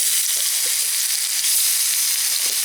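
Vigorous sizzling of lotus root deep frying in hot oil, a dense crackling hiss with scattered pops, close and continuous.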